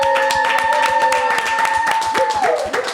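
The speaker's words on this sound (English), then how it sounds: "I want to also big round of applause to Rosalind and R&R Estate" A round of clapping at a podcast taping, with sharp handclaps over sustained tonal music and voices mixed in, fairly loud and steady before tailing off.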